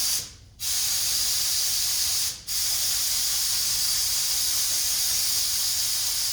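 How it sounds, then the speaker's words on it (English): HVLP paint gun spraying Cosmoline Rust Veto 342, a loud steady hissing spray, close by, cut by two brief pauses where the trigger releases. "the nice thing with spraying versus rolling is I can get into all these areas"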